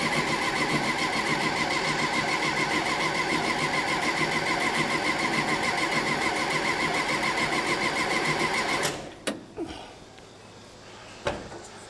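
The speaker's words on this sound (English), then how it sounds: "It's going to take it a minute. Cranking." A 1964 Karmann Ghia race car engine with dual 40mm carburetors cranking on the starter, a loud steady churning whir for about nine seconds that then cuts off, followed by a few clunks and a near-quiet tail.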